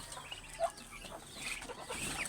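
Broiler and native chickens on a farm give off faint, scattered clucks and short calls at a distance, soft and intermittent against a quiet background.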